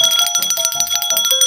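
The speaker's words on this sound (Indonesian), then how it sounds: "kalau ini digoyangkan atau dipukul akan menghasilkan bunyi, yaitu bunyi lonceng seperti ini." A hand bell shaken by a teacher in a kindergarten classroom rings continuously for about a second and a half, its bright metallic tones repeating in quick, loud strokes with no talk over them.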